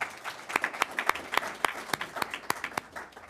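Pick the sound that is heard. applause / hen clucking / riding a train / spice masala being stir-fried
applause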